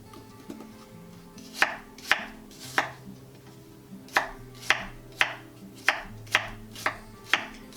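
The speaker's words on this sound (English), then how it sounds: "So now we're just going to cut the apple up into little pieces, add that to the mixture." A knife chops an apple into little pieces on a cutting board for cranberry sauce, about a dozen sharp, close knocks in a loose, irregular rhythm with quiet pauses between strokes and no talk.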